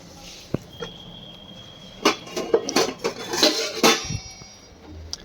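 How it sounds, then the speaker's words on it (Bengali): A lid is set onto a pot of water heating on the stove, giving a cluster of close metallic clanks and rattles, with one sharp tap first and the loudest knocks in the middle. "ঢাকাটা দিয়ে দিলাম জল গরম হতে থাকুক"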